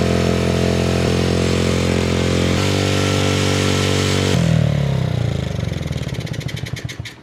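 A Honda CRF50 dirt bike warms up at a high idle with its throttle stuck partly open, its engine humming steadily and close by, then shifting pitch and sputtering down into uneven pulses near the end.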